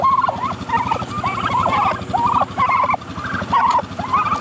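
Several turkeys gobble repeatedly in overlapping bursts, loud and close, over a steady low rumbling background.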